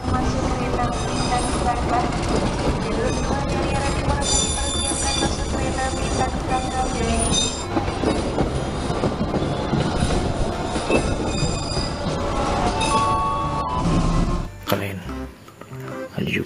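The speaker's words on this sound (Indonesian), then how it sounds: "tipe KRL khusus wanita." An Indonesian KRL electric commuter train rolls past with a dense, loud rumble of wheels and rail noise, clattering steadily before easing off near the end; talk is faint.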